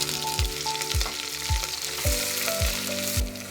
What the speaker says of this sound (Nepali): तेल तातिसक्यो, अब प्याज हाल्दैछु।